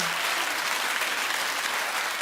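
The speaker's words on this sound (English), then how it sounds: "keep the claps going" A television talk-show studio audience claps and cheers in a continuous, loud wash of applause that holds steady throughout with no break.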